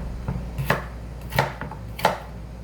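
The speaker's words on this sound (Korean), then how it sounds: "무도 두꺼운 궁채 두께로 썰어서 절굴 거예요." A knife cuts radish into thick strips on a board, making three firm, close chops at an even pace, each with a lighter tap just before it.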